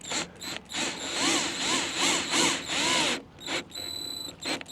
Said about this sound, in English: Could pre-drill them, that way I won't split the wood.